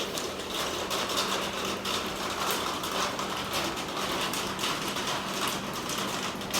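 Steady rain pours down in a dense, even hiss, close and continuous throughout with no pauses, falling during a little girl's first rain bath.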